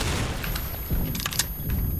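Explosions and gunfire in a first-person shooter video game, a sharp close blast followed by a second burst and scattered crackling shots, loud and dense over a rumbling battle backdrop.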